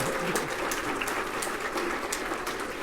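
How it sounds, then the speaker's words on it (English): An audience at a regional government address claps together, a dense, steady wash of applause that holds at even loudness for a few seconds. "Give them a big round of applause."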